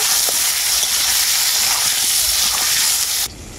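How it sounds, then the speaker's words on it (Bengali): Potatoes seasoned with salt and turmeric sizzle and hiss steadily in a hot pan, close and loud, before cutting off abruptly near the end. "আলুটাকে আমি খুব ভালো করে ভেজে নেব।"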